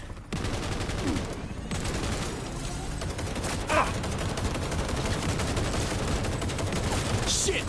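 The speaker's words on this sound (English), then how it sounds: "Stop firing!" Dense gunfire from the video game Cyberpunk 2077: Phantom Liberty crackles almost nonstop in rapid bursts, loud and continuous, with a few sharper cracks standing out.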